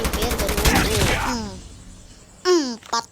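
Gunfire in a shooting video game comes as a rapid burst of close shots at the start, followed by quieter sharp reports near the end, with voices mixed in.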